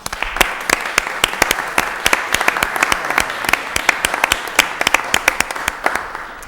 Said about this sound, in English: So let's give a round of applause to this new business.